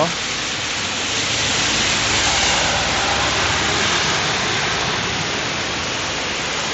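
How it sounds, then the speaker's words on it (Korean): Heavy rain pouring over a Renault Korea QM6 or SM6 with water-repellent coating on the windshield, a dense, continuous hiss of water with a low rumble underneath, steady and close throughout. "비가 많이 오니 물방울이 잘 흘러내리죠."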